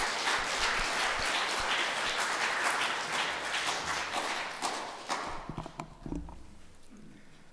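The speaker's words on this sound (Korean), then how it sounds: "하나님께 큰 영광에 박수합시다." A church congregation at an anniversary revival service claps loudly together for about five seconds, then the applause thins into a few scattered, separate claps before stopping.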